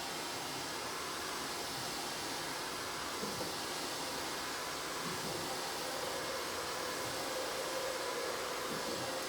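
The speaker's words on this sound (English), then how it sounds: "just make sure that the heat gun is always pointed away from the hand that you're using to rotate the roller" A heat gun runs continuously while warming a paint roller sleeve, giving a steady, even rushing hiss that stays close and constant throughout.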